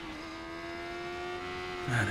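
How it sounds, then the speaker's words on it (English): A car engine hums at a steady pitch in Fortnite, then a brief louder thump near the end, with faint background noise. "I can hear another car."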